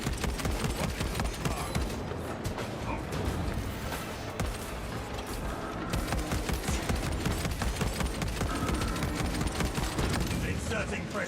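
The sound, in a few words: Marksman carbine gunfire in video game Space Marine 2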